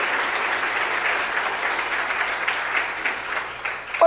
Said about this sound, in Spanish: Dale un fuerte aplauso al Señor por su amor y su misericordia.